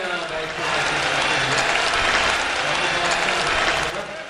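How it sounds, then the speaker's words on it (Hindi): A crowd at a poetry performance in Haldwani claps together in a full, sustained burst, the applause swelling and holding steady before easing off, with faint voices mixed in. "एक बार एक साथ तालियां बजा।"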